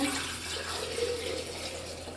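Bone broth poured from a crockpot into mason jars makes a steady, continuous liquid stream, moderately close and unbroken for the whole stretch, with no talking.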